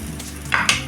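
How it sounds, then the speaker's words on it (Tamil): Grated coconut and urad dal being sautéed in a pan for coconut idli podi, with a couple of short scraping stirs and a soft sizzle over a quiet, steady background. "இது நல்லா செவந்து வர வரைக்கும் வதக்கிக்கங்க."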